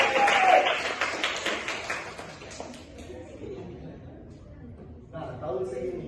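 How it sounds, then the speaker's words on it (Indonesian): Classroom students clap briefly for a classmate's answer during a teaching lesson, a short burst of close clapping at the start that fades into murmuring voices and classroom noise. "Beri tepuk tangan dulu."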